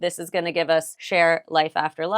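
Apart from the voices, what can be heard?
No distinct noise like a dog, phone or traffic.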